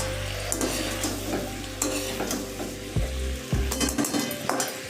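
Grated ginger and garlic fry in a pan with a constant bright sizzle, broken by clinks and scrapes of a spoon stirring against the metal, close by with no voices.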